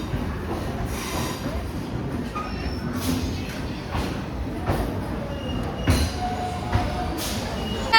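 A passenger train pulls into the platform at Mysuru Junction, with a steady rumble of wagons, faint squeals from the wheels and some clanks, while people talk nearby.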